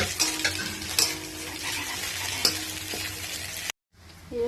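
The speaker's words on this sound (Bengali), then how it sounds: "এই সব সবজিগুলো আমি এখন একসাথে ভাজবো ভাত ভাজা করার জন্য।" Mixed vegetables sizzle and fry in a pan for fried rice, with onion and chili already fried in. A steady close sizzle runs under occasional stirring scrapes and clinks, then cuts out briefly near the end.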